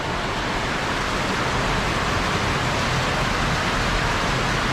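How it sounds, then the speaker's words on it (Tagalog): Heavy rain pours down in a dense, unbroken roar, loud and steady throughout with no other sounds. "Ang lakas ng ulan."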